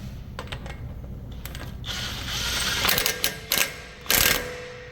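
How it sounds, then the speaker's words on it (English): An impact gun runs down the CV axle nut on a 2011 Honda Odyssey. A few short, loud rattling bursts come after quieter clicks and handling noises, with no talk. "I will bring the axle nut down with the gun"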